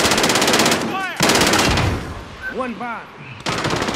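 Rapid bursts of automatic gunfire and explosions from a Call of Duty: Modern Warfare multiplayer match, loud and close, broken by brief pauses, with a player speaking briefly over the shooting.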